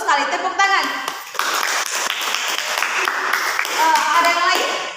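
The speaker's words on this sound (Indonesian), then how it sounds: "Bagus sekali, tepuk tangan." A classroom breaks into hand clapping during a micro-teaching lesson, a short burst of applause. A teacher's voice is heard before and after the clapping.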